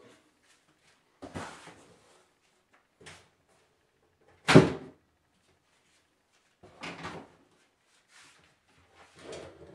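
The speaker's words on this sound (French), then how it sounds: "Et on tire les portes." The doors of a Fractal Design Arc PC case are pulled open in a series of short plastic and metal clicks and scrapes, one sharper snap standing out, with quiet gaps between them.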